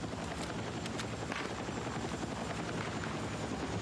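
Helicopter in the video game Battlefield 6, a dense steady rotor and engine roar that fills the whole stretch, with sharp gunfire cracks scattered over it and no voices.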